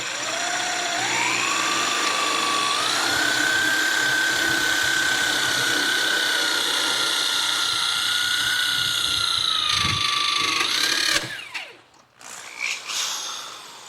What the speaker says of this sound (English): what am I gonna be drilling through?